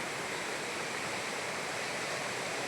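A river beside a farm lot in Liliw, Laguna, flows with a steady, broad rushing wash that stays at an even level throughout, with no voices heard.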